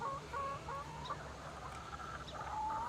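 Hens that lay colored eggs cluck and murmur softly in a coop near the nesting boxes, a few short calls rising and falling over quiet background noise.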